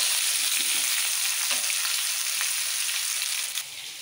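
Steady, bright sizzle of frying on a medium flame, the food going golden brown in a pan for Bengali khichdi, close and continuous with a few faint stirring clicks, dropping a little quieter near the end; no one speaks.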